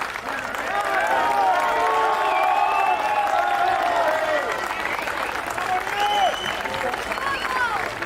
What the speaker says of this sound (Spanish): Quiero, por favor, que ya empiecen a aplaudir